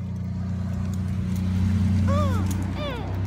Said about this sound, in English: I see a truck.